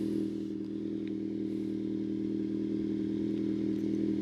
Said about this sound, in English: it idled back down to a regular lower RPM